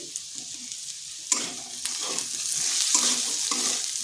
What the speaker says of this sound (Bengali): পেঁয়াজটাকে আলুর সাথে একটু ভেজে নেব